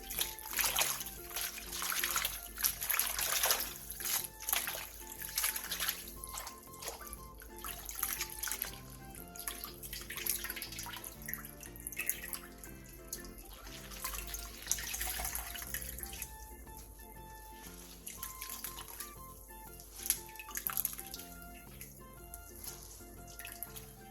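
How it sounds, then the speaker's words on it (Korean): Blanched spinach being rinsed under cold running tap water in a sink while preparing a Korean namul side dish, with continuous splashing and trickling and irregular louder spurts as the leaves are handled. "데친 시금치는 찬물에 헹군 뒤 물기를 짜주세요."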